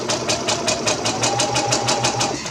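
A sewing machine stitching fabric runs close and steady, its needle thumping in a fast, even rhythm of about five strokes per second over a constant motor whir.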